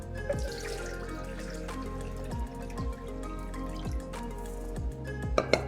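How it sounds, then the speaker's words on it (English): Water pours steadily into an electric wok, a continuous splashing trickle with faint drips, close and moderately quiet with no talking. "Simply add water to the wok."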